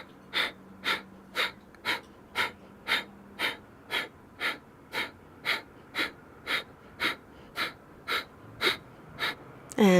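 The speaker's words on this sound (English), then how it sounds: "Kapalabhati, but if you'd like, it's a forced exhale." Kapalabhati yoga breathing, a steady train of about twenty quick, forceful nasal exhales at an even rhythm, close and fairly soft, with a deeper breath at the very end.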